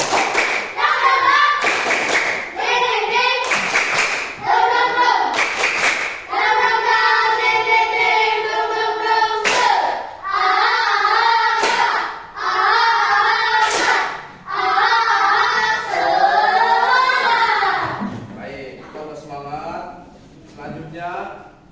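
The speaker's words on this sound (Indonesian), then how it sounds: "Bapak minta satu kali tepuk semangat." A school class performs a rhythmic 'tepuk semangat' spirit clap in a classroom, with bursts of patterned clapping alternating with children chanting and an adult teacher's voice, the claps sharp and close between the sung or spoken lines.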